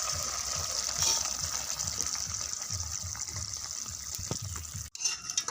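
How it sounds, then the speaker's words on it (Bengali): Cooked fish curry being poured from the pan into a bowl, a close, continuous wet gushing and sloshing that holds steady for several seconds before a short break and a final splash. "একটা বোলে এটাকে ঢেলে নিচ্ছি।"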